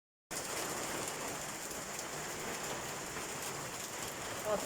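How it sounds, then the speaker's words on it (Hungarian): Heavy cloudburst with small hailstones in Pápa, Hungary, a dense, constant roaring patter that begins abruptly and holds steady and loud throughout, with no voices. "Micsoda jégeső."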